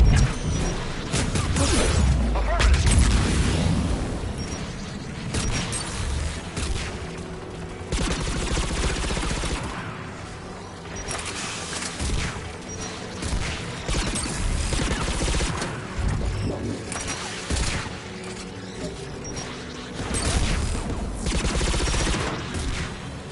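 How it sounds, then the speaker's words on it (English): Anti-aircraft guns fire in sustained rapid bursts, with heavy thuds and booms rolling on without pause. The barrage is loud and fills the whole stretch. "AA guns ahead."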